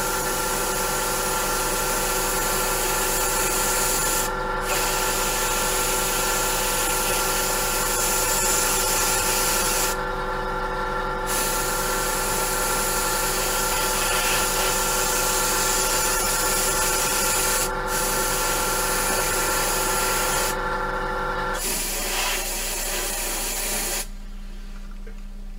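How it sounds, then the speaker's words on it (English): Vallejo Shifters paint sprayed from an airbrush, a loud continuous hiss broken by a few short pauses, then cutting off near the end, with no one speaking. "I'll spray this one on here."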